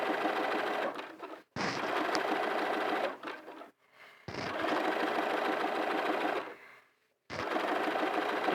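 A sewing machine stitches a hat in three long continuous runs separated by brief pauses, its steady mechanical whir loud and close with no talking.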